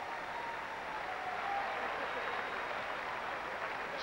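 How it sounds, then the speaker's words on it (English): Steady, dense wash of applause from a capacity crowd on an Olympic tennis centre court during a standing ovation, continuous and even throughout, with a commentator's voice underneath. "Standing ovation from this capacity crowd at center courts."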